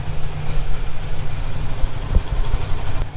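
A Kawasaki Z900 motorcycle idles after a cold start with a steady, deep, low rumble that holds at an even level throughout.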